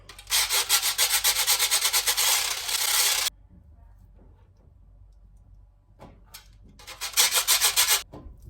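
Homemade tuna spice is grated by hand onto a ribeye, producing bursts of fast, dry, rhythmic rasping strokes, a first long run, a pause, then a shorter second run, close and fairly loud.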